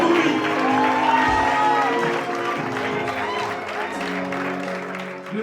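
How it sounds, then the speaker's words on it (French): An audience applauds at a church graduation ceremony, a sustained wash of clapping from a crowd with voices mixed in, fairly loud and filling the room. "Applaudissons pour lui."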